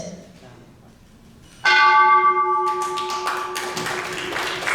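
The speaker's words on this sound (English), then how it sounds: "We will now ring the bell 3 times." A bell is struck once with a mallet at a peace ceremony, giving a sudden bright clang that rings on with a long sustained tone and slowly fades, while faint voices and tapping sounds are heard underneath.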